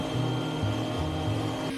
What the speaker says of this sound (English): After the fairing has cured, it is time to sand.